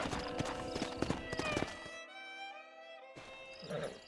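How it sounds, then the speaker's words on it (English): Horse hooves clip-clop in the Red Dead Redemption video game, a brisk, close run of hoofbeats that stops abruptly, followed by a horse's neigh and then more movement. "We got some fine horses."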